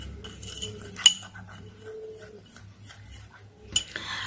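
A spoon stirs homemade face pack ingredients in a bowl, giving sparse, quiet scrapes with a couple of sharper clinks against the side, heard close and alone without talk.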